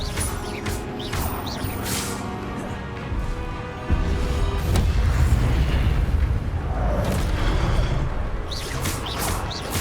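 Spell effects from an Incendio fire cast in Hogwarts Legacy, a steady loud whooshing, crackling mass with booming impacts that swells after a few seconds and carries on without speech.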